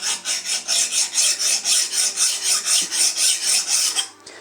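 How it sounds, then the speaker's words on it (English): A metal file rasps along the sharp edges of a glass plate being prepared for wet plate photography: about fifteen even, rhythmic strokes, close and clear, ending with a small knock and no voices. "all I want to do at this stage is to take these sharp edges off. I'm using a file."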